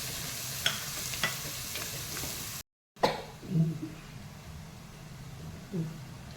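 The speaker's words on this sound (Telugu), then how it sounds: "ఇప్పుడు నేను దీనిలో ఉల్లిపాయలు వేసేస్తాను." Chopped onions fry in a pan with a soft steady sizzle, broken by a brief gap and then spoon scrapes and clatters as they are stirred nearby.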